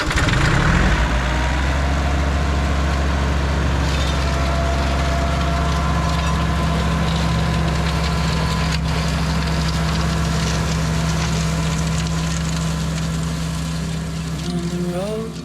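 A tractor engine idles steadily after being started, a loud, low, constant rumble with a faint tonal hum; a flail mower is attached, and the running stays even throughout.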